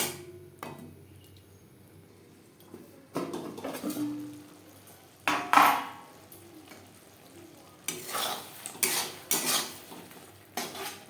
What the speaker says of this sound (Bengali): মশলা বেশ ভালো করে কষিয়ে নেব।